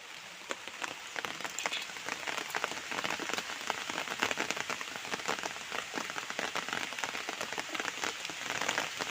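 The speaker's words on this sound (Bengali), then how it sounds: "তো বলতে না বলতে বৃষ্টি চলে এসেছিলো" Steady rain falls on surfaces around a village home where a free-range chicken is being prepared outdoors, a dense, even patter of drops that stays constant and fairly soft throughout, with no voices.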